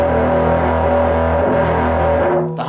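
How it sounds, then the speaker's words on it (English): Heavily distorted electric guitar played through a distortion effect pedal with the gain set high for crunch, a sustained loud chord ringing steadily alone before fading near the end. "The higher the distortion, the more crunch."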